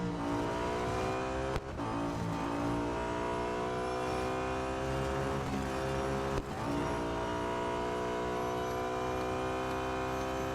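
Audi A5 DTM 2012 race car in Real Racing 3, its engine droning loud and steady with rising revs, broken twice by brief gear-shift dips, and no talking.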